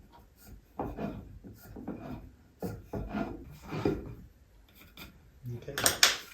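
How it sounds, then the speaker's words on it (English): A spokeshave rasps across a walnut table leg being shaped by hand, with a series of short, irregular scraping strokes of wood shaving, fairly close and quiet. "this is all spokeshave work now"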